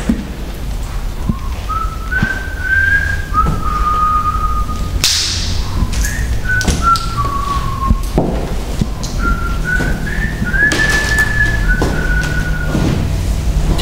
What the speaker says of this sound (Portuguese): alguém assobiava